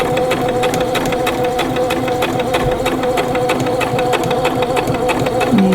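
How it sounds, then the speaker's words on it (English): A sewing machine stitches fabric for a glasses case with a continuous loud, close, rapid mechanical whirr and rhythmic needle clatter throughout, with no pause. "I'm going to do about 1/8 of an inch stitching on"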